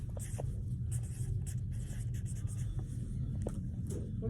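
A pencil scratches across paper in a classroom, quick close strokes and taps forming words, over a low background murmur.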